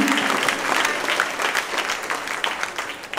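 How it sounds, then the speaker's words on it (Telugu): Loud, sustained clapping from a church congregation fills the room, a dense continuous wash of hand claps with crowd murmur beneath, steady throughout. "ఎంత బిగ్గరగా చప్పట్లు కొట్టగలరు?"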